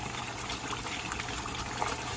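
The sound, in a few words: water being added to seasoned curry goat meat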